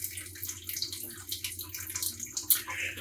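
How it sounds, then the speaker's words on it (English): Water from a coffee brewer rinses steadily through the K-cup holder, a faint, continuous trickling and splashing flow with no talking. "as this one rinses, you'll see it funneling directly through the K-cup holder itself, rinsing that out"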